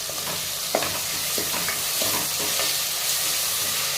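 A handful each of fresh coriander and mint leaves sauté in a pan for coconut milk biryani, with a continuous soft sizzle broken by scraping clicks as a spoon stirs, close and with no talking.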